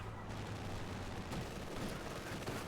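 Dense, continuous rumble of 120mm mortar explosions and gunfire in a wartime strategy video game, a steady loud barrage with no clear gaps.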